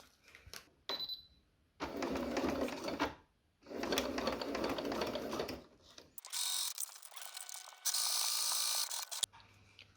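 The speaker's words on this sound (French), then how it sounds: "on va repasser un point droit sur l'autre partie de la fermeture" Sewing machine running a straight stitch along a zipper for a coin purse, in several bursts of steady mechanical whirring with brief stops, plus clicks and rustling of fabric being shifted; no speech.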